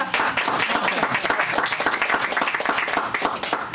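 Warm applause from a seated audience at a city commission meeting, steady dense clapping that carries on evenly throughout, fairly close and loud, with no speech over it.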